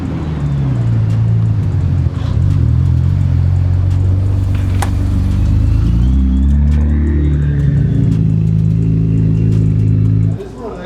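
A sports car launches hard with its engine revving loudly and steadily, the note climbing and shifting over several seconds, while voices talk over it inside the cabin.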